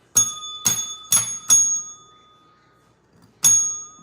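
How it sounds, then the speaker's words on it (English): A small bell struck five times, four quick bright dings in a row, then a pause and one more, each ringing clearly with a short decay in an otherwise quiet space. "Why my bell sound like that?"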